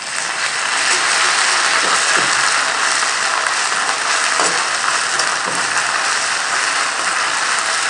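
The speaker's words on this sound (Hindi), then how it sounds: "और थोड़ा सा लहसुन को थोड़ा भूनते हैं।" Garlic sizzles in a pan with onions, a loud, steady frying hiss with occasional crackles and light scraping, for a Punjabi bhindi recipe.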